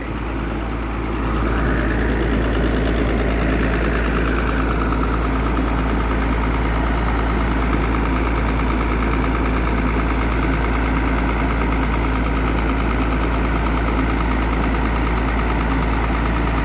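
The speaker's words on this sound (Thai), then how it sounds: "เร่งเครื่องเบาๆครับ" A GO e 8C turbo engine, rated around 260 horsepower, idles with a steady low rumble and slight knocking texture, revved gently once near the start before settling into an even, close, continuous drone.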